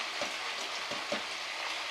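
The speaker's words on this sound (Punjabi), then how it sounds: "ਆਪਾਂ ਤੜਕਾ ਤੇ ਗੰਡੇ ਤੇ ਮਿਰਚਾਂ ਪਾ ਦਿੰਦੇ" Sliced onions and chillies go into hot oil for a tadka for guar bean curry, giving a faint, even crackling sizzle with a few soft knocks.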